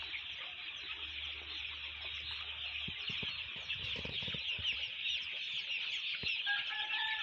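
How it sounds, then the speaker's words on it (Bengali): Chickens eating feed on a farm, loud continuous clucking and squawking from a crowded flock, steady throughout with a few sharper calls near the end. "সবগুলা মুরগি এরকম করতেছে।"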